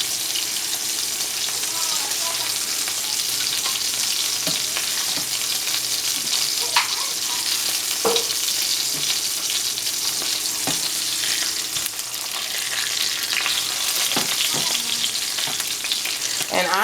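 Great Value sausage fries in a pan with a steady, loud sizzle and crackle throughout, broken by a few sharp clicks and scrapes of stirring.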